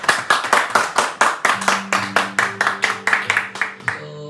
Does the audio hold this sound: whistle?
no